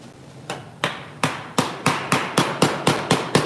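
Hand hammer blows on a metal panel while forming a raised panel with simple hand tools, about ten sharp, evenly spaced strikes speeding up slightly, close and loud with no talking.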